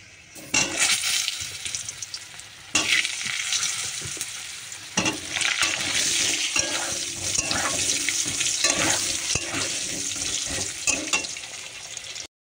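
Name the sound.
potatoes frying in oil with cloves and garam masala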